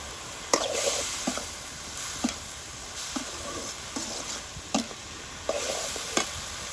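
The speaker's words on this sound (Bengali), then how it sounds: "দিয়ে দিচ্ছি পেঁয়াজ কুচি, দিয়ে দিচ্ছি রসুন," Chopped onion and garlic go into a hot frying pan, with a soft steady sizzle broken by regular scraping stirs and light clacks of the spoon against the pan, roughly one every second, with no talk.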